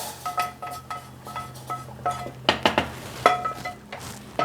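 A spoon stirring vermicelli cooking in a metal pot, with repeated clinks and scrapes against the sides in an uneven rhythm, close and fairly loud, with no talking.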